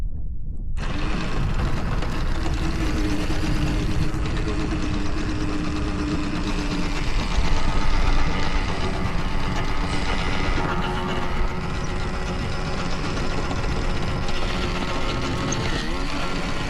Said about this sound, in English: while I start the engine